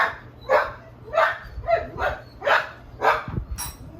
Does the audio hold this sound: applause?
no